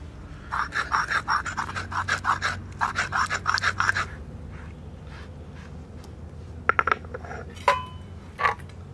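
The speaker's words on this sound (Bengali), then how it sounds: "আমি এখন বাইটে নেব আদা কাঁচা লঙ্কা পেঁয়াজ আর গোটা জিরে আমি শিলে বেটে নেব" Ginger, green chilli, onion and whole cumin are crushed on a flat grinding stone in a forest village setting, with quick rhythmic scraping strokes followed by sparse knocks and clatters.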